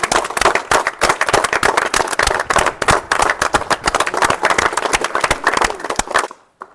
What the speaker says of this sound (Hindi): प्रधान जी का जोरदार तालियों से स्वागत किया जाए